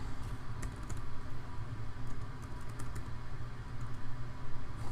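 Fingers type on a computer keyboard in scattered bursts of soft key clicks over a low background hum, with no talking.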